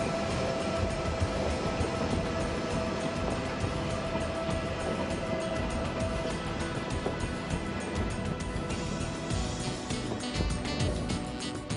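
ICE-T tilting train rushing past during a high-speed test run, a loud, steady broadband roar and rumble lasting throughout with a faint tonal whine, no voices.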